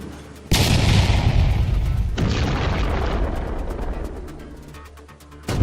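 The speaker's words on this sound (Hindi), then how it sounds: "धमाका इतना जबरदस्त था कि आसपास के कई गांवों तक उसकी आवाज पहुंची" Sudden massive boom of two trains colliding head-on at about 80 km/h near Gaisal station in West Bengal, a loud close burst followed by a long rumbling crash that slowly fades, with no talk.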